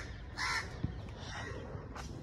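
A crow caws in a few harsh bursts near a sports ground where players practise kho-kho outdoors, the calls fairly close over a steady background hum.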